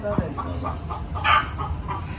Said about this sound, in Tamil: ஆமாம்மா கோழியை பாருங்க